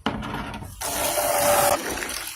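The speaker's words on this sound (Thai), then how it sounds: "เดี๋ยวล้างกระมังล้างน้ำสักหน่อยนึงก่อน" Water gushes loudly into a basin for about a second while it is rinsed before washing with detergent powder, then the flow cuts off, leaving only quiet splashing; no one talks.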